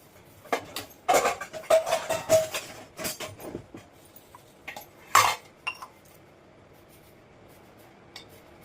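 Dishes, pots and pans being scrubbed and clinked at a kitchen sink, giving bursts of scraping and clattering with a few sharp metallic clinks, fairly close and moderately loud, with pauses between strokes.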